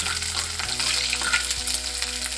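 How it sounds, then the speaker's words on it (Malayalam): Chopped garlic dropped into hot oil after mustard seeds have popped, for a hog plum pickle: a loud, dense, continuous close-up sizzle with no talking. "കടുക് പൊട്ടി നമ്മൾ വെളുത്തുള്ളി ഇടുവാണ്."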